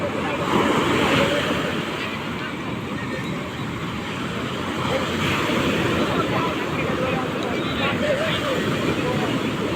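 Strong ocean waves roll in at Chandrabhaga beach in Puri, a loud continuous roar of surf mixed with gusty wind buffeting the microphone and faint voices in the background.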